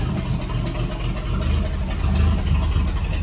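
Engine of a 1949 Plymouth idling with an occasional miss, a steady low rumble close by with faint irregular stumbles in the rhythm, running alone without talk.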